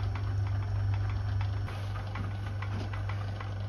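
A lathe cutting tool takes a light 24-thou cut on the steam chest of a Stuart 10V model steam engine, a soft steady whispering under the constant hum of the running machine, with faint ticks throughout and no talk.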